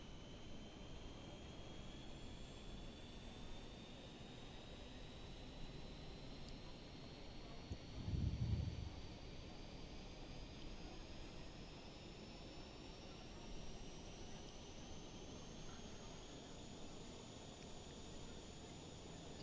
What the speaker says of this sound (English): So the APU is starting.